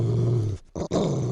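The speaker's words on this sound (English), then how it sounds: "And he's a dog." A dog growls low and steady at close range, the rumble breaking off briefly in the middle before resuming, with no talking.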